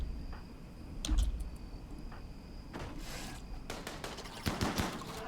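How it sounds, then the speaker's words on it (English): Gunfire in the colony-sim game RimWorld, scattered bursts of sharp shots, a few early and then denser rapid volleys toward the end, moderately loud over a low background rumble, with no talk. "Oh, don't shoot Magnus"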